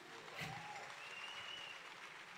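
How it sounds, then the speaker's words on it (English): Audience at a business empowerment event in Ghana applauds a woman, a faint, distant, even patter of many hands clapping steadily throughout. "I'd like you to give a round of applause to this woman."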